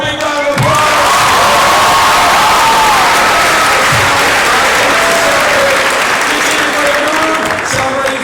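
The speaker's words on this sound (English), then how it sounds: "Give those guys one more big round of applause." A large crowd at a high school celebration applauds loudly and steadily, with cheers and whoops rising over the clapping throughout.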